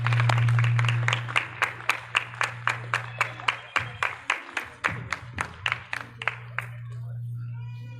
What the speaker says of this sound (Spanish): Démosle un aplauso a este joven.